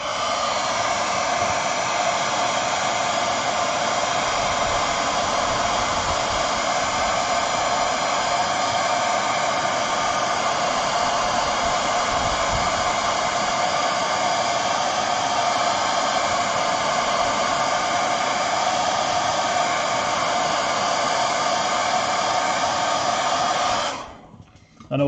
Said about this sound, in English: Let me just give that another blast with the old hairdryer.